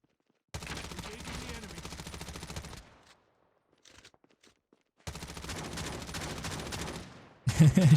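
A shotgun firing in an online shooter game, two bursts of loud close rapid gunfire separated by a quieter gap with faint clicks, and another sharp blast at the end.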